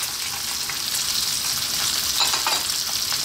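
Chopped celery and onion frying in a pan, a close steady hiss of sizzling fat with small crackles and a brief flare of spitting midway, no voices.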